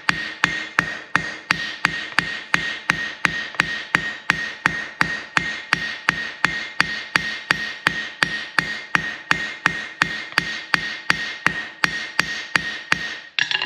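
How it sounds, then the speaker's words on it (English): A cross peen hammer strikes hot metal on an anvil while spreading it, ringing blows landing in a steady, fast rhythm, about three per second, loud and close for the whole stretch with no talking. "For spreading, I'm going to flatten it down, take my cross peen"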